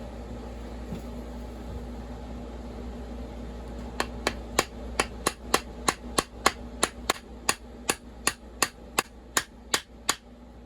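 Steady hammer blows drive a part into the engine case of an Echo CS-400 chainsaw, about nineteen sharp metal knocks in a regular rhythm over several seconds, following a quiet stretch of background hum.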